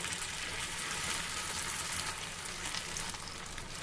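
Sabudana tikki fry in hot oil spread on a tava over a medium flame, making a constant, even hiss of sizzling oil at close range with no talking.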